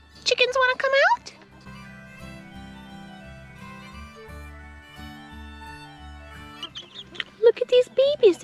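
Chickens in a coop in the morning cluck and squawk loudly up close at the start and end, with a low, steady drone sounding in between.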